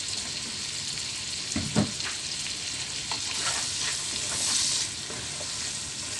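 Large shrimp fry in oil with a bright, constant sizzle and a few spatula scrapes and knocks as they are stirred, close up and steady, without speech.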